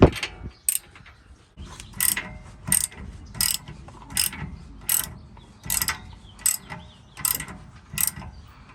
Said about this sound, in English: They should be a 21 millimeter deep socket. Just loosen them up.